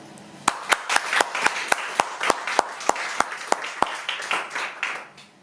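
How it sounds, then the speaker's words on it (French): Audience clapping at an evening slam poetry event in a Nice venue, a brisk run of sharp, close claps over a lighter spread of other hands, swelling then fading away at the end. "On peut les applaudir."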